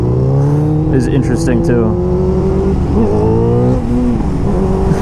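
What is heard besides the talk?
motorcycle engine with out-of-sync carbs backfiring and popping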